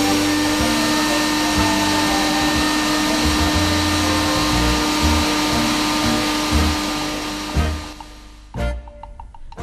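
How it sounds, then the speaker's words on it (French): A traditional household vacuum cleaner runs with a loud, steady whine and hum, then winds down and cuts off near the end, leaving a few soft clunks. "l'aspirateur traditionnel n'est pas pour ceux qui apprécient le confort et le silence"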